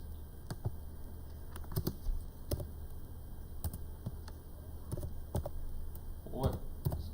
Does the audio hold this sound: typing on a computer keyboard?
yes